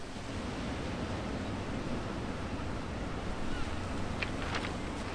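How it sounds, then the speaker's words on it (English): Huge ocean waves breaking on the Scottish coast by the Bow Fiddle rock, a continuous broad roar of surf with wind buffeting the microphone, steady and loud, with no talking. "My God, these waves are huge."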